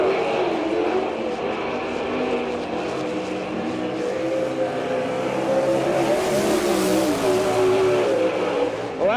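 Sprint cars race on the dirt oval at Port Royal, Pennsylvania, during a 1999 All Star Circuit of Champions night. A loud, continuous engine roar from the pack swells and fades slightly as the cars pass.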